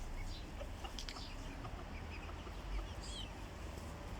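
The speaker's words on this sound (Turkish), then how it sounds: "Yağmurlu, yağışlı havada tavuklar ne yapıyor diyebiliriz." Chickens and chicks outdoors in rainy weather near Osmaniye, faint scattered clucks and peeps over a constant hiss of steady rain.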